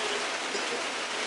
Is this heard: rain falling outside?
yes